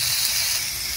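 Vegetables fry in a pan with cumin and coriander powder, a steady, close sizzling hiss that holds level throughout with a brief stir-like bump at the end.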